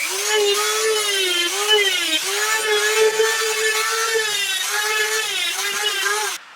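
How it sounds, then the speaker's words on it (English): A Dremel rotary tool carves small ear sockets into a sanded wooden rat swimbait, giving a steady, close, high-pitched whine that dips and wavers slightly as the bit bites into the wood, running continuously for several seconds. "we'll fire up the Dremel, and we'll put these little ear sockets in"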